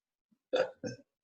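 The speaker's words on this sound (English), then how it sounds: "Oh, have a hiccup." A single hiccup-like vocal spasm: two quick close bursts, a sharp onset followed by a shorter second catch, isolated in quiet with no talk.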